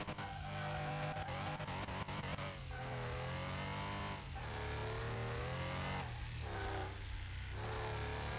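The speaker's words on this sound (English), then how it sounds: "All right, sitting here in my Porsche 911 RS at the racetrack. Time to see what this thing can do." A '93 Porsche 911 RS, a rear-engine car, drives on a racetrack in Car Mechanic Simulator. Its engine revs and climbs through several gear shifts in a continuous, close drone, with no talking.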